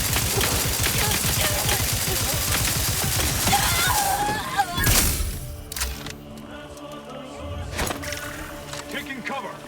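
Rapid bursts of gunfire in The Outer Worlds 2, a dense volley of loud shots for the first few seconds, then a few sharper isolated cracks, with a voice speaking over the action.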